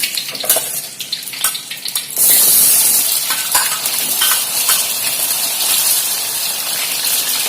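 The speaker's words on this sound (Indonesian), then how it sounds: "Pertama-tama kentang kita goreng dulu." Potato pieces frying in hot cooking oil, a loud continuous sizzle with bursts of crackle that jumps in intensity after two seconds as the potatoes hit the pan, with no talking.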